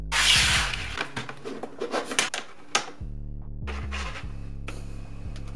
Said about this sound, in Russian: Мы наконец-то вставим этот диск в дисковод.